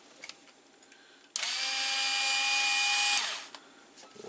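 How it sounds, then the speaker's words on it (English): Phillips screws are backed out of the circuit board inside a Technics SL-PG480A CD player: a loud, steady motorized whine runs for about two seconds, then winds down, with quiet handling noise before and after. "I need to unscrew this PCB, and that's held in with 3 screws"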